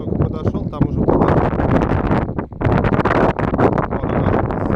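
Strong wind gusting across an open-air shooting range, a steady broadband roar buffeting the microphone for several seconds, with one brief lull midway.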